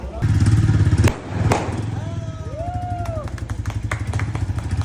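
A new Royal Enfield Classic 350 motorcycle idles close by with a steady, rhythmic thumping beat, while people talk and call out over the engine.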